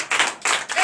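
A congregation at a Sunday church service in Comè, Benin, claps in acclamation. Three quick, close bursts of clapping arrive in rhythm within under a second.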